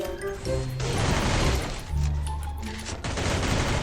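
Machine gun fire sprays in the Free Fire video game, dense rapid bursts of gunshots with booming impacts, loud and continuous with brief gaps, while a voice speaks over it.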